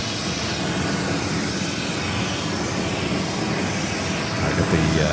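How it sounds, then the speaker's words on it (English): A Singapore Airlines Boeing 777 airliner is pushed back from the gate at JFK airport. A steady, broad jet-engine roar fills the whole stretch at constant loudness, with no voices. "Got the Singapore 777 being backed up here."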